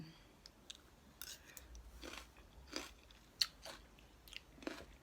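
Mouth chewing a freshly pounded star gooseberry salad, with scattered close crunchy bites and wet smacking over about five seconds, quiet and alone with no talking.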